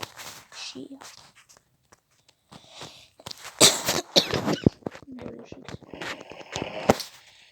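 Several short, harsh coughs burst out close by, mixed with shuffling movement and bits of Georgian talk in a noisy, uneven setting.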